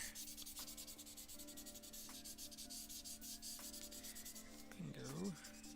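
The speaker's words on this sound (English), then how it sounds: "we grab my big red pencil here" Big red pencil rubs and shades across paper in steady, scratchy back-and-forth strokes, close and continuous, with a faint hum underneath.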